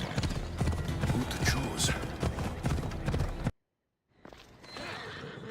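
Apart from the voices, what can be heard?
horse hooves clip-clopping in a video game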